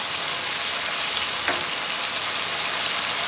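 A spice paste of ground coriander, cumin, red chili powder and green chili paste frying in a pan, with a dense, unbroken sizzle that holds at a constant loud level.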